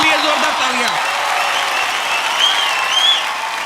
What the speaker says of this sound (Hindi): माधुरी दीक्षित जी के लिए जोरदार तालियां।